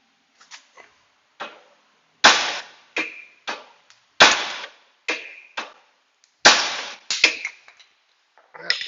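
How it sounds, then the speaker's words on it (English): Hammer striking the tie rod end on a 2005 Honda suspension, a string of sharp metallic taps in an irregular rhythm, several hits loud and close with quiet gaps between. "I'm just going to tap on it right here and see if it moves at all."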